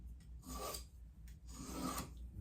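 A Simmons knife blade drawn across a Jewel Stick sharpener, giving two long raspy scraping strokes close up and fairly quiet, with a short pause between passes.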